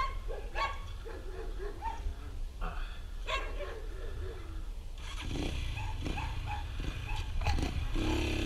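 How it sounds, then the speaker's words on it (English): Dog barking outdoors near a motorcycle ride, several yaps and barks at uneven intervals over steady engine and wind noise, moderately close. "The amount of dogs is just insane."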